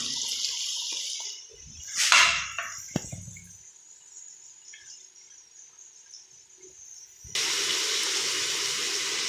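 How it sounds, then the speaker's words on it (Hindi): Water is splashed into spice masala frying in a pan, with a brief splash and hiss, quiet stirring sounds, then a loud steady sizzle rising near the end. "ये हल्का सा मैंने इसमें पानी डाला है"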